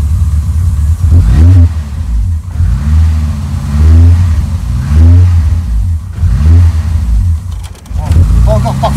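A cold car engine, just after repair of its tachometric relay, settles toward an uneven idle, its close, low rumble swelling in repeated surges as though briefly revved.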